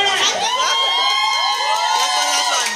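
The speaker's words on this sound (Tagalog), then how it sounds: "Sonara, nasaan ang cheer nyo?" Loud live esports crowd at a Tekken 7 tournament cheering and whooping for the player Sonara, a dense mass of shouting voices filling the whole stretch without a break.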